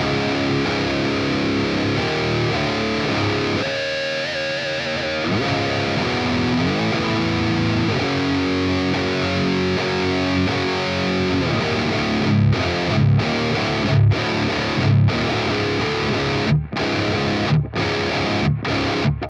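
Heavily distorted electric guitar through an amp plugin plays a dense, sustained metal riff with chugging palm-muted stops near the end, loud and continuous with no voices.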